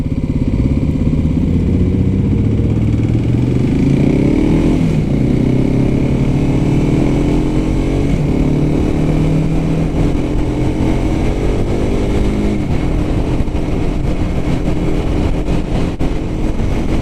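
A 2023 Kawasaki KLX300SM single-cylinder thumper motorcycle revs loudly and continuously nearby, its pitch sweeping up and down through repeated throttle blips, with no talking.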